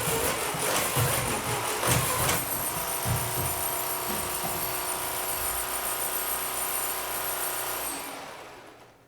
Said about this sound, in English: So now for that 1 second, when it's spooling up, the robot should also be pulling away from the goal